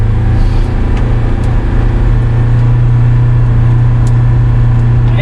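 A Polaris Ranger Northstar Ultimate UTV drives along with a loud, constant engine drone and steady low hum close by, no voices over it.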